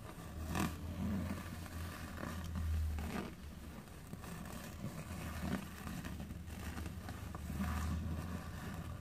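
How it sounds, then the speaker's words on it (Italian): Car traffic on the street below a home passes as a low rumbling drone, faint and distant, swelling and fading as vehicles go by, with occasional nearer clicks and rustles. "Scusatemi se sentite degli altri rumori delle macchine di qui sotto"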